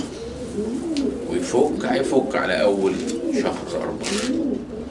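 Low, soft cooing of pigeons in a loft, continuing throughout, while someone talks over it.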